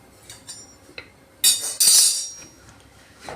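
Metallic clanks and scraping as a lid is fitted onto a pressure cooker in a home kitchen, with a few light taps followed by two louder, brighter clattering bursts.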